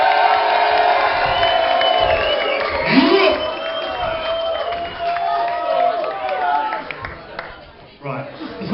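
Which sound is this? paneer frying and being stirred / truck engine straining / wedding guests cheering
wedding guests cheering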